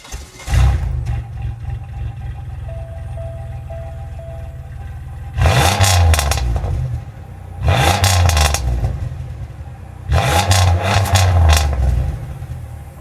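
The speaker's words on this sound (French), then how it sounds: "Fais-moi écouter ce moteur américain." A Pontiac Grand Prix GTP's American engine starts and settles into a steady low idle, then comes three loud, separate revs with brief pauses between them.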